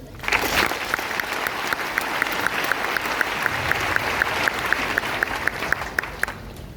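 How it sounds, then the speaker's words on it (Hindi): Loud audience applause at a Hindi-language talk on passive income, a dense burst of clapping that starts abruptly and holds steady, with a rhythmic run of sharper individual claps standing out through the middle. "आपको बड़ा ताली होना चाहिए"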